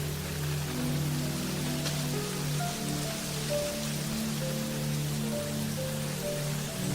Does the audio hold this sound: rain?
yes